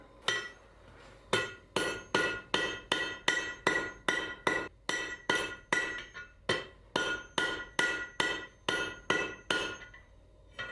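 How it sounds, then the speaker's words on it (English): A steady run of about twenty ringing ball peen hammer blows forging a metal bottle opener on an anvil horn, struck close and evenly in rhythm, each with a short metallic clang and no talking. "I'm going to use a ball peen hammer and find a spot where I like it on the horn"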